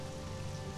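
Steady rain falls in the Conan Exiles game world, in a snowy biome, as a continuous dense hiss of droplets spread across the whole moment, even and fairly quiet, with no voices over it.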